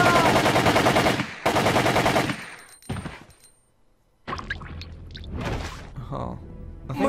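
Gunfire from Resident Evil 3: Nemesis on GameCube, two long loud bursts of rapid shots near the start, then scattered sharper impacts and game voices talking afterward.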